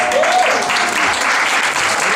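A poetry slam audience at the Nuyorican applauds loudly and continuously, a dense wash of clapping with a brief whoop or cheer near the start.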